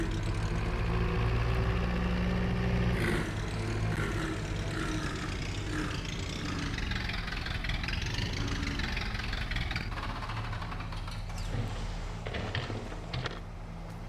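An Ursus tractor engine running in a farming video game, a steady, close mechanical drone with a constant low hum that holds for the whole stretch, with no talking over it.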